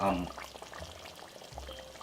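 Chopped spring onion (scallion) tossed into a hot pot for Jamaican curry goat, giving a brief thump at the start followed by a continuous soft frying sizzle with faint clatter.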